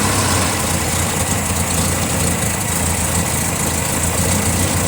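Swankmobile engine running steadily with a fresh fuel filter fitted, a loud, continuous low idle rumble with no pauses and no talking.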